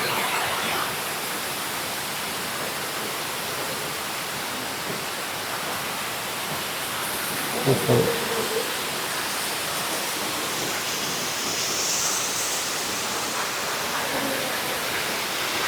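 The Vattavada waterfall in Kerala, running with less water than usual, gives off a constant broad rushing roar that stays steady throughout, with a brief knock partway through.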